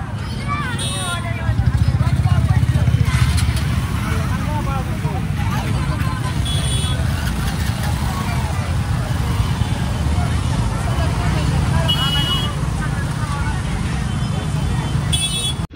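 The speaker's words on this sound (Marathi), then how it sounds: "खूप ट्रॅफिक झालेलं आहे" Dense city street traffic with a steady roar of cars and motorcycles, scattered horn toots cutting through, and a babble of nearby voices talking throughout.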